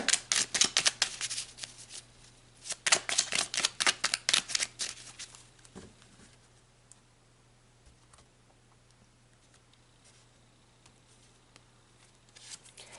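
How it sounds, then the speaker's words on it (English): Tarot cards are shuffled in quick, crisp bursts of riffling and flicking, close and fairly soft, then the deck falls quiet apart from a few faint taps as cards are pulled. "So let's pull some more cards and dig deeper."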